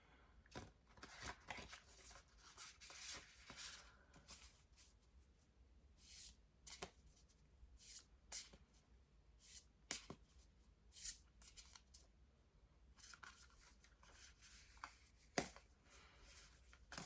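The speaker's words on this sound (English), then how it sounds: "I'm gonna pull one more card from this rainbow Brainskull deck" A rainbow oracle card deck being shuffled by hand gives repeated crisp riffling bursts and flicking card snaps at an uneven pace, quiet and close, with no voices.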